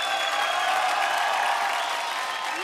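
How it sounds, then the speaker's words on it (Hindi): A studio audience at the comedy show Entertainment Ki Raat Housefull gives sustained applause, a dense, even wash of clapping that holds steady throughout with only faint crowd voices. "उसके लिए भी जोरदार तालियां अनु जी"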